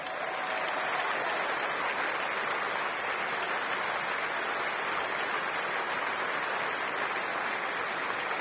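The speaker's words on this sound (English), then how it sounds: "can everyone give every member of staff in this place a round of applause" A large stadium crowd at West Ham United's Boleyn Ground closing ceremony applauds in a dense, continuous roar of clapping that stays steady and distant, without any break.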